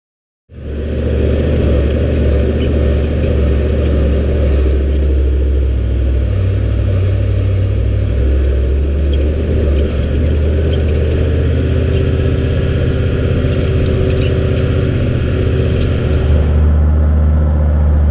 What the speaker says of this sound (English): third attempt to get up this dune